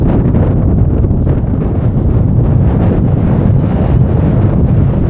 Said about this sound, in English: apart from this wind, it's perfect